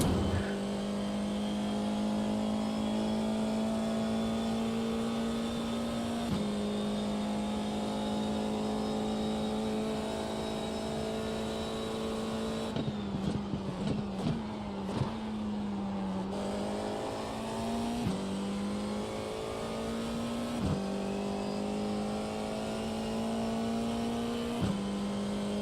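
GT3 race car engine on a track, droning steadily at high revs close by, with gear shifts and a lift-off burst partway through before it pulls hard again.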